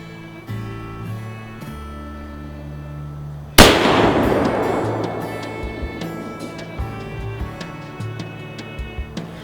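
A single loud rifle shot at about 3.6 seconds during pre-season elk hunting target practice, its sharp blast followed by a decaying echo over quieter ambient ticking.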